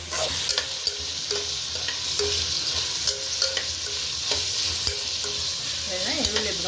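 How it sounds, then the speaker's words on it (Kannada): Sliced onions fry in oil with a spoonful or two of ghee for matar pulao, a steady close sizzle broken by repeated scraping and stirring knocks of a spoon against the pan. "ಈರುಳ್ಳಿ ಹುರಿಯೋಕ್ಕೆ ಎಣ್ಣೆ ಜೊತೆಗೆ 1-2 ಸ್ಪೂನ್ ತುಪ್ಪ"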